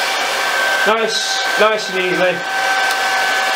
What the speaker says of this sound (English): Just make sure you do not touch the glass with the hairdryer.